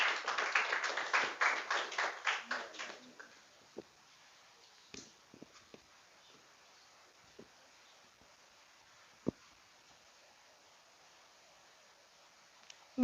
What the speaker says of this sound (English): Please clap whilst he's coming.